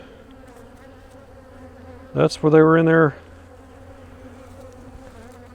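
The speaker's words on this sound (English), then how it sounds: "See all the bee butts sticking out of this?" Honeybees hum steadily inside an opened hive during an inspection, a constant droning buzz that continues throughout while a voice speaks briefly in the middle.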